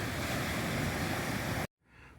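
Ocean surf rolling below a coastal trail in Costa Rica, a steady broad wash of waves with some wind, then cutting off abruptly before a faint quieter tail.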